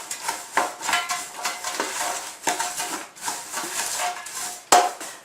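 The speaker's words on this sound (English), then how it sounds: "Go ahead and mix those well together." Crushed pecans are stirred into panko crumbs in a bowl, giving close, scratchy rustling and scraping with a few sharp clinks of a utensil against the dish, with no talking.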